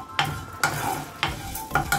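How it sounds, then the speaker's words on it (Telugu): Cumin seeds frying in a pan for capsicum rice, with a steady sizzle and several sharp stirring scrapes of a spatula against the pan, close and clear. "జీలకర్ర త్వరగా వేగిపోతుంది కాబట్టి మనము లాస్ట్లో వేయించుకోవాలి"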